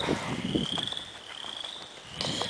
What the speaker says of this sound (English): There's bullfrogs in there too.